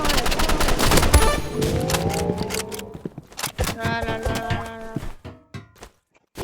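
Gunfire in the video game Contenders rattles out in rapid automatic bursts, loud and close, then thins into scattered shots and ringing echoes before fading.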